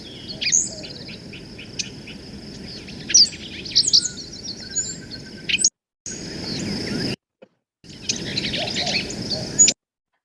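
Wild Arizona birds give bright, ringing chirps and calls over steady insect and cricket buzzing, with a cluster of sharper notes midway and louder calls near the end. Two short silent gaps break the sound.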